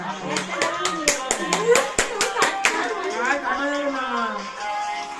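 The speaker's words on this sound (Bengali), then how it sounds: "হাতে তালি দাও, হাতে তালি দাও।" Several people clap hands in a quick rhythm at a family birthday cake cutting at night. The bursts are loud and close, and they trail off into chatter with children's voices.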